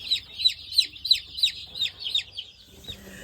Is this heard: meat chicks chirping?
yes